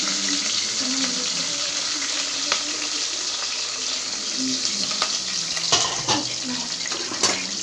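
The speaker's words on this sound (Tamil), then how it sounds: "வெங்காயம் கொஞ்சம் நல்லா வதங்கட்டும்." Chopped onions and green chillies sizzle in hot oil for biryani, a steady bright hiss with a few sharper crackles and spits scattered through it, fairly close and loud.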